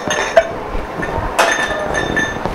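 A homemade shaped ice cube drops into a cocktail glass of lemon juice and black radish syrup, giving a sharp glassy clink and a second louder knock, with faint clinking after.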